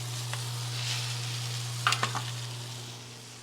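An already-cooked wagyu steak sears in a hot pan, giving a steady, soft sizzle over a constant low hum, with a few brief sharp pops and crackles near the middle.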